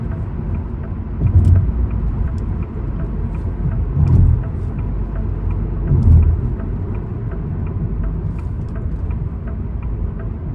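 A car drives along empty city roads in Riyadh, its engine and road noise a steady low rumble with a few brief louder swells, heard from inside the cabin with no talking.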